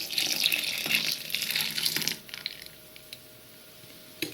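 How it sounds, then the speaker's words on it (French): Hot milk is poured from a saucepan into a custard mixture for crème anglaise. A steady splashing, trickling pour fills the first two seconds, then the sound drops to quiet kitchen background with a few faint knocks. "Une fois que votre lait est bien chaud, versez tout le contenu de votre russe"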